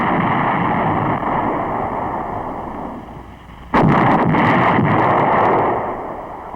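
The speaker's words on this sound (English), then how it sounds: "Army artillery has met these demands with massive firepower, using a wide variety of field pieces." Army field artillery fires in the Vietnam War in a heavy, muffled roar with a sudden loud burst midway, all dense and rumbling on an old film soundtrack, with no talk.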